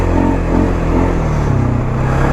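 A Polaris Sportsman 570 EPS ATV's single-cylinder engine revs loud and close, a throbbing low rumble with rising and falling pitch, heard alone without voices.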